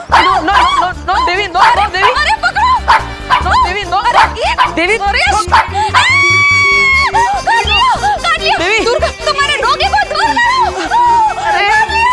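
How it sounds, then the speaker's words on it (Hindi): A dog barks repeatedly in a lively indoor scene from a Hindi TV drama, loud and close, mixed with excited voices and music. "ये कितना प्यारा डोगी हो ए कुत्ता"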